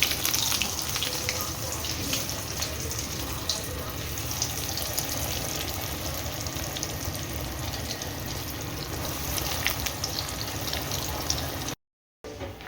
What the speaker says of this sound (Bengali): তেল গরম হয়ে গেছে, একটা একটা করে চিংড়ি মাছের বড়াগুলো ছাড়ি